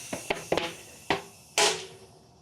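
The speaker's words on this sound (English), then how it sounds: "nice shot of air to pop this tyre onto the rim." Bursts of compressed air from a charge pump snapping a tubeless Continental Terra Trail TR tyre onto its rim: several sharp short pops, then a louder hissing rush of air near the end, close and alone.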